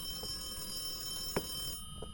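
Telephone ringing in the Phasmophobia horror game, a steady electronic ring tone held alone over a faint background hum.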